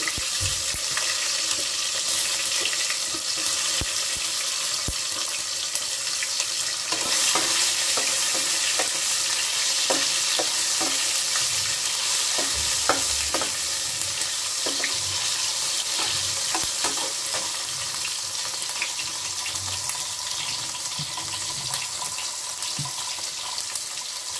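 Bay leaf and tomato frying in hot oil in a pan, a steady close sizzle with occasional stirring scrapes and clicks throughout, no talk.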